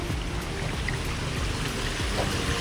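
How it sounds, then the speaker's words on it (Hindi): Natural spring water from the mountains below Kangra Fort in Himachal, pouring and trickling in a steady close stream, loud and continuous with no talk. "ये जो पानी आ रहा है"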